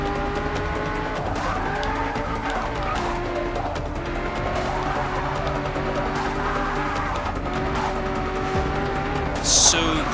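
A Shelby GT350R races around the Nürburgring in the Forza Motorsport 6 video game, its engine roaring continuously near and loud, with tire squeal and skidding rising through the run.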